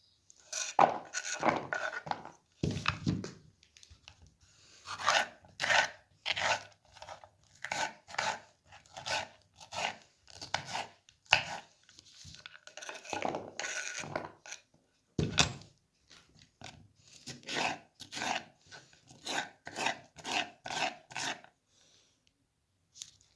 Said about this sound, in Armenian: հիմա պղպեղն ենք կտրատում